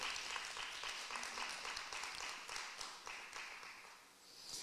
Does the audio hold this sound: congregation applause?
yes